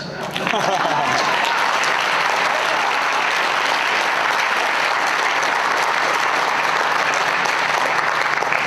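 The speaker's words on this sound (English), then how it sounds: "Amazingly enough, well, I always take applause." Sustained applause from a large audience at a political teach-in on impeachment, dense and steady from start to finish with a few voices mixed in.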